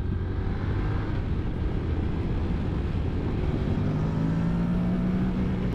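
Steady, loud engine drone from a 2023 Honda NC750X parallel twin motorcycle while riding, mixed with heavy wind rush and no talking.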